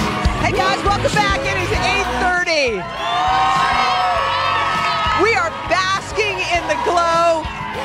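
A studio crowd at a morning television show cheers and whoops loudly, with shouting voices and yells layered together in a lively, sustained roar.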